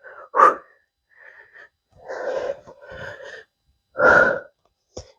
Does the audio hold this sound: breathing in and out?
yes